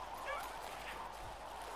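In the video game Younder, a dog-like creature gives a short bark and faint whimpering yips, quiet under a soft ambient game backdrop.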